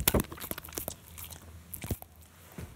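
A dog bites and chews a piece of apple with peanut butter, giving several sharp, close crunches in quick bursts with quieter mouth sounds between.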